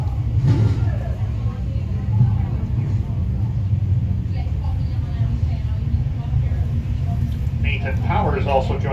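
Several race car engines rumble together at Can Am Speedway as a seven-car field lines up for a six-lap heat, a steady loud roar throughout with a slight rise in revving near the end.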